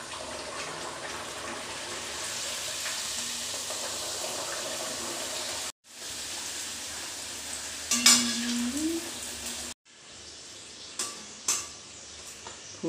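Cauliflower kachori fry in a pan of hot oil, giving a steady close sizzle that cuts off twice, with a few brief clinks and bubbling bursts near the end and no talking.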